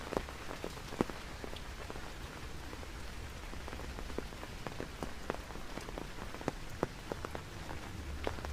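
Rain falling steadily on surfaces outdoors in a city street, a soft constant patter with scattered sharper drips and drops, fairly faint and alone without talk.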